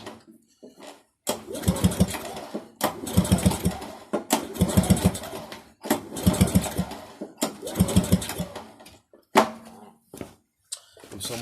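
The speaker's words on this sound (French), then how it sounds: "Je vais retourner un peu le moteur à la main." A long-idle two-stroke Motostandard lawn mower engine turned over by hand, giving repeated bursts of rapid mechanical chugging in roughly one-second pulls separated by brief pauses, close and fairly loud, with a few clanks near the end.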